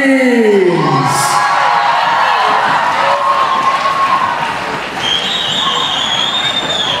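A large dance-competition crowd at a national event cheers and applauds loudly as teams return to the stage, a dense roar of shouts, whoops and clapping that holds steady, with high squeals and whistles rising above it.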